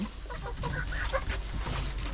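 Healthy laying hens, among Indonesian ducks, cluck softly and steadily in a farmyard pen, with short fowl calls rising over a constant low background murmur.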